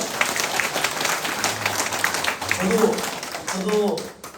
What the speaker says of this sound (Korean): 정말 우리 박수 한번 쳐야 되겠죠?